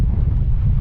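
Strong north wind buffets a sailboat on Lake Erie, roaring loudly and steadily across the microphone for a short moment.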